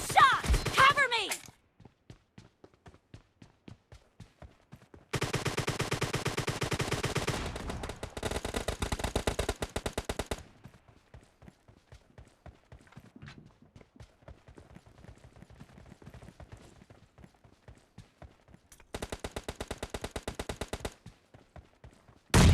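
Gunfire in PUBG Mobile during a team deathmatch: loud bursts of rapid automatic fire come in separate blocks between quieter stretches, with in-game voices heard now and then.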